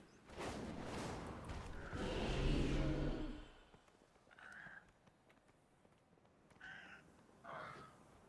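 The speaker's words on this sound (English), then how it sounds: "There's a cat on the fountain." A cat in the World of Warcraft video game gives a few short, faint meows near the end, following a louder stretch of footsteps and ambient game noise.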